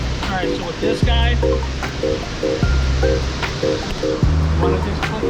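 Steady wash of water waves at a fishing spot in Buffalo, N.Y., a constant broadband rush running through the clip with people talking and a few tonal beeps over it.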